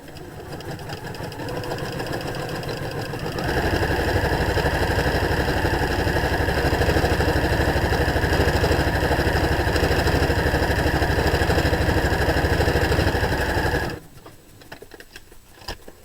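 A sewing machine fitted with a free-motion foot runs steadily while stitching a regular zigzag, a loud continuous motor whir with rapid needle chatter lasting about ten seconds before stopping abruptly, with quieter handling noise on either side.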